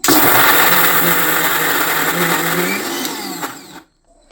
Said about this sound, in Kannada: ಮಿಕ್ಸಿಗೆ ಹಾಕ್ಕೊಂಡಿದ್ದೀನಿ, ರುಬ್ಕೋತಿದ್ದೀನಿ